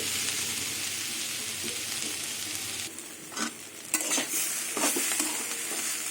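Flat beans, potatoes and peas sizzle in a hot pan, with a few scraping stirs and clinks of a utensil breaking up the steady frying hiss.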